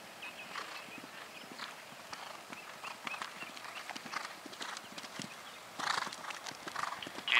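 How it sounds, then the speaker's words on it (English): Hooves of an Irish Sport Horse clip-clop steadily across a cross-country eventing course, with faint, rhythmic footfalls at a moderate distance and a brief whinny, growing a little louder toward the end. "riding the Irish Sport Horse"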